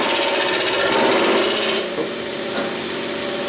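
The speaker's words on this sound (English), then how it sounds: "So now I need to get my skew chisel, use it as a scraping tool to get that really nice clean cut" A skew chisel used as a scraper against a spinning wooden goblet on a lathe, giving a loud, continuous rasping buzz that eases and softens partway through, with no talking.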